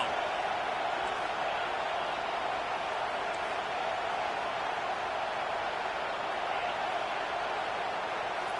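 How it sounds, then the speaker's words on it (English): A stadium crowd at an Alabama vs LSU football game roars steadily on third down, a broad, sustained wash of cheering with no breaks, loud and even throughout. "Decibels rising as the crowd gets behind this defense on 3rd down."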